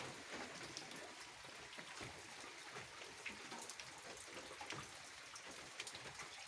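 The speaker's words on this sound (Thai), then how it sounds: "ชมบรรยากาศฝนตกไปนะครับ" Light, cold rain falls steadily over a rural Thai countryside setting, a soft continuous patter of drops with no pauses and no talk.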